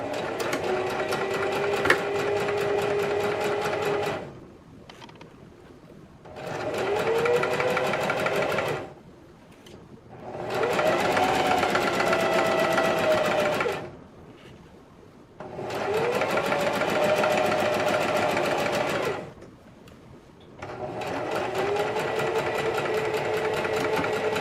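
An electric sewing machine stitches a fabric origami face mask in five long runs of fast, even whirring, each separated by a brief pause, close and loud.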